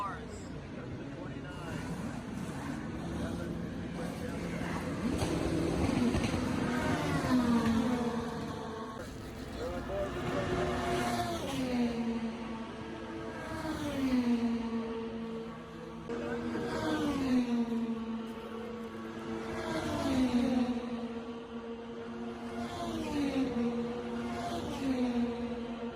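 Race cars circling a track heard from the grandstand seats, engine tones rising and falling as they pass in repeated sweeps, steady and moderately loud under crowd babble and nearby talk.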